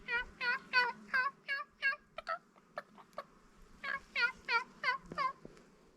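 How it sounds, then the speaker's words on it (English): Turkeys gobbling in repeated rapid bursts, several quick warbling calls in a row, then a pause and another run of gobbles, fairly close with faint background noise. "You hear them turkeys"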